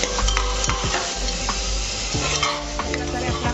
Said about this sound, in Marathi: तेही आपल्याला एकदम चांगलं परतून घ्यायचं आहे, एकजीव होईपर्यंत कांदा आणि टोमॅटो